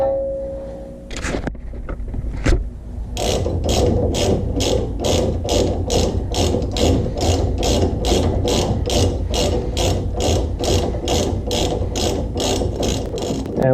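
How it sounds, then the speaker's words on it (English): A ratchet wrench clicks rapidly and steadily as it tightens a 13/16 nut onto the steering shaft of a 1998 Ford F150 during a front suspension rebuild, a close, loud stream of even pawl clicks after a few initial knocks. "we're just gonna take the ratchet"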